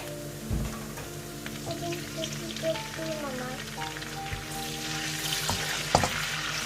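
Water pours into a hot pan of fried shallots for pink stir-fried rice noodles, hissing and sizzling steadily with some stirring and clinks, fairly loud and close, with no talking.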